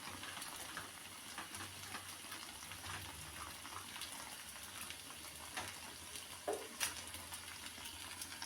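Unniyappam sizzle quietly in hot oil over a low flame, a faint, continuous hiss with soft bubbling and a few brief clicks near the end.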